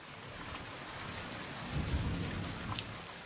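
Rain falling outside a window during a tropical thunderstorm in Phoenix, a steady wash of rainfall with a low rolling rumble of thunder swelling midway.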